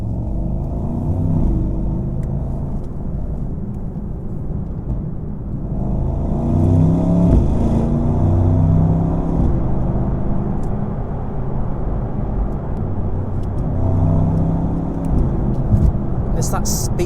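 A Mercedes-AMG GT 63 coupe's V8 in Sport Plus mode gives a deep, steady rumble that swells into throttle surges around the middle and again near the end, with a few sharp pops. A voice is heard briefly.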